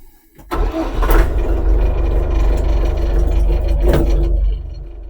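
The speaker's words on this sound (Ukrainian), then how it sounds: "Ось такий вмикаєте важіль і насос починає прокачувати антифриз" Inside the cab of a Scout TY-404 40 hp mini tractor, a steady low mechanical hum and rumble runs for several seconds after a click, fading out near the end, with no speech.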